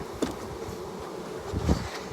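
Honeybees hum inside an opened beehive fitted with a queen excluder, a soft steady drone with a few brief louder buzzes as bees fly close.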